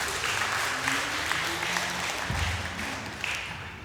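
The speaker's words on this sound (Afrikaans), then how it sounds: "Kom ons gee vir hulle lekker hande klap." A church congregation applauds at a Good Friday service, a steady wash of many hands clapping at moderate distance with a low voice or hum briefly underneath.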